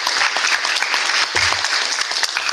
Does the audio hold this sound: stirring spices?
no